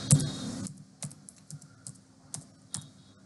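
Typing on a computer keyboard while entering data in Excel, a quick flurry of keystrokes followed by sparse, soft individual key taps, close and quiet with no voice.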